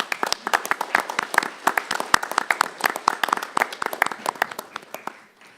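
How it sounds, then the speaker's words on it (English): A crowd at a disaster-preparedness town hall claps steadily for several seconds for first responders, dense and lively at first, then thinning out toward the end. "could you please stand up and take a round of applause?"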